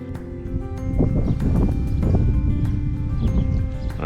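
Wind gusts across a microphone on the Werribee River estuary while someone is fishing, making a loud, continuous low buffeting rumble with faint clicks and no speech.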